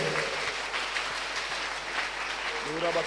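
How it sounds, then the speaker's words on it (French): Congregation clapping for the Lord during a Sunday church service, steady dense applause from many hands throughout, with voices calling out over it. "Let's clap for the Lord."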